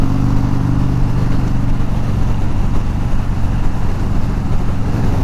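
A stock Harley-Davidson Dyna motorcycle pulls hard in top gear at highway speed, its engine roar loud, steady and close, mixed with heavy wind rush throughout.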